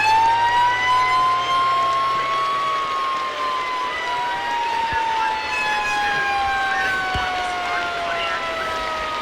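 A fire engine siren in the Roblox game ER:LC wails continuously, loud and close, with rising and falling tones sweeping over a low engine drone.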